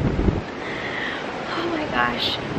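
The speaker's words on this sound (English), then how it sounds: "See how windy it is." Steady wind buffets the microphone with a continuous rushing roar, and faint voices can be heard under it.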